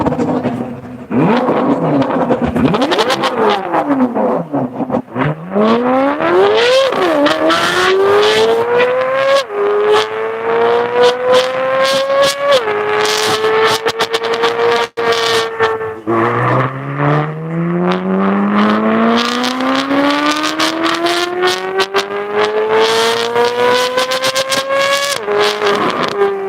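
The engine of a 2023 Chevrolet C8 Corvette Z06 starts and is revved repeatedly. It is loud and close, its pitch climbing and falling over and over, with no talking.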